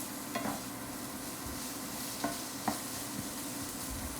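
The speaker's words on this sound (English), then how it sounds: "we're going to saute this" Red onions saute in a pan in a home kitchen, giving a quiet, continuous sizzle broken by a few brief scrapes of stirring.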